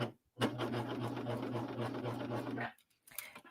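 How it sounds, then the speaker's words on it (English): A serger stitches around a fabric edge for beading, a fast, buzzing run of about two seconds with a steady low hum, followed by a short pause and a brief restart. "serging around the edge of something and serging on corners is always a bit challenging for a lot of serger users."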